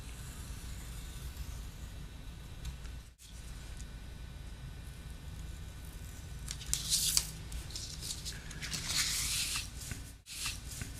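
Quiet, close paper cutting: two short, crisp slicing bursts against a low steady background hum.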